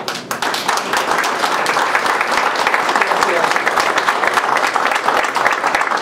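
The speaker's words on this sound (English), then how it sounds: "Another round of applause" Audience applause for Joe Kennedy III during a 2013 visit to Water Fresh Farm, a steady, fairly close round of many hands clapping that continues evenly for about six seconds.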